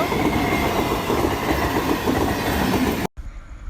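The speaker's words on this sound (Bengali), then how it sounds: "দাদা আর আমি অপেক্ষা করছিলাম কখন ট্রেন আসবে তারপরে ট্রেন চলে এসেছে" A train rumbles past a level crossing with loud, continuous wheel clatter and roar up close, ending abruptly before a quieter background.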